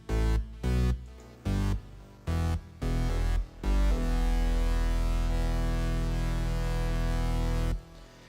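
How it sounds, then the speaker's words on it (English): Grimy, hardcore glitch hop synth lead layered with bass, first cutting in as short, choppy stabs, then holding one long, loud, dense sustained tone before stopping abruptly. "I made that lead a little bit hardcore and grimy with some bass"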